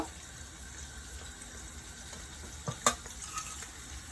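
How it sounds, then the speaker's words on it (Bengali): Spiced cauliflower being stirred in a frying pan with turmeric, coriander powder and bay leaves, giving a low steady sizzle with a few sharp scrape-and-clink spikes from the spoon near the end. "ভালো মতো নেড়ে চেড়ে আমি একটু ভালো মতো নেড়ে চেড়ে নেই"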